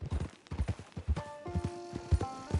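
Horse hooves clip-clop at a steady walking rhythm in Red Dead Redemption 2, about a dozen close, moderately soft hoofbeats, with a faint sustained tonal sound entering partway through.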